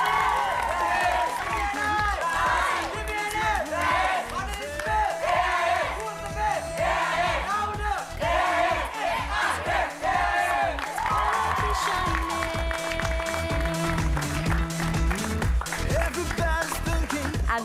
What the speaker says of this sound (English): Can I get a big round of applause for Asian International School?